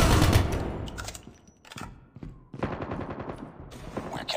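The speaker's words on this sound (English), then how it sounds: "Friendly sentry gun deployed." Automatic sentry gun firing in the mobile shooter Call of Duty Mobile, loud bursts of rapid gunfire that pause briefly midway and resume with repeated volleys among other game sounds.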